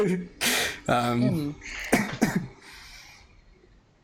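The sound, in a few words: petty little cough into a sleeve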